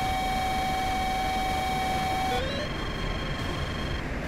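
Steady high electronic tone from an F-16's Sidewinder missile seeker in DCS World, growling over constant cockpit hiss and noise, then shifting pitch briefly and fading out into lower rushing air noise.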